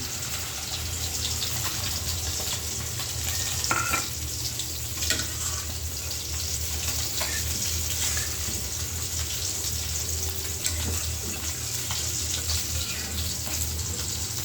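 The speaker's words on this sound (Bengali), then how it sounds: "এবার ঝোল দিয়ে দিই। জলটা দিয়ে দিলাম।" Water is poured into a sizzling spice paste in a kadai while fish curry is cooked, producing a continuous hissing, gushing wash of sound with small splashes and pops, close and steady, without talk.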